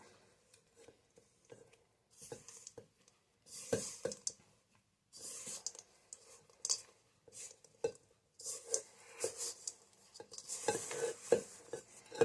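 A spatula working chocolate chips into cookie dough in a bowl, with intermittent bursts of scraping and soft thudding strokes separated by short quiet pauses.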